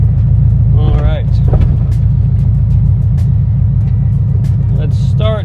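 A Datsun 280Z powered by an LS2 V8 cruises with a constant heavy, low engine drone, while a couple of short voice bursts cut in over it.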